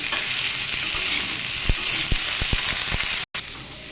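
Cardamom and cumin sizzle as a tempering in hot oil, a steady close crackling hiss with a few sharp taps of a utensil against the pan and a brief drop-out near the end.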